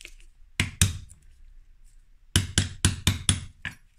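Hammer tapping a small screwdriver to seat parts while converting a Squall 60 multiplier fishing reel to underhead mounting: two sharp metallic taps, a pause, then five quick close taps in a steady rhythm, with no talking.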